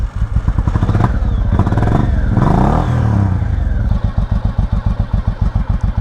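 A Honda Shadow motorcycle engine turns over and catches, then settles into a steady, loud, close-up idle with an even low pulsing beat.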